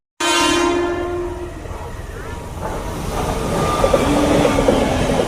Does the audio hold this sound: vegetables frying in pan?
no